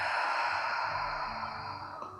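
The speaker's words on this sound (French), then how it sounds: "Et on expire par la bouche." A slow, soft exhalation through the mouth during a guided breathing exercise for better sleep, one steady breath of air heard close and alone, fading gently over about two seconds.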